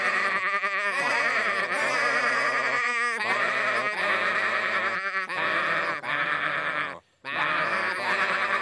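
Cartoon sheep bleating in a sung gospel number on a farm, wavering tuneful bleats in a loud chorus, phrase after phrase with a brief pause near the end.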